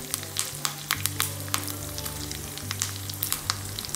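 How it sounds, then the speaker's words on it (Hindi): Peanuts and chickpeas sauté in half a tablespoon of oil in a pan, a steady close sizzle with frequent crisp pops and crackles over a low hum. "सभी इंग्रेडिएंट्स को हमें अच्छे से सॉटे कर लेना है ताकि ये क्रिस्प हो जाए"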